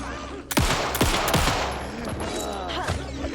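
Gunshots in Alan Wake 2: several sharp, loud shots in quick succession, each with a ringing tail, over a low rumbling game soundscape.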